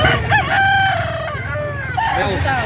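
A rooster crows loudly and close by, with harmonic calls over a background of farm noise and other birds.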